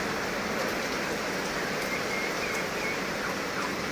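Steady heavy rain pouring down outdoors in rural Thailand, a dense even hiss that holds at a constant level throughout with no voices.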